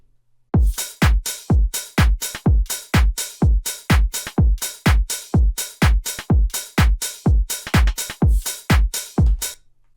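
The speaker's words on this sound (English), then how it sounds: "the drum loop we created on top of the bass and the vocal" A punchy electronic drum loop with a deep kick and a snappy clap alternating in a steady, tight pattern, loud and dry.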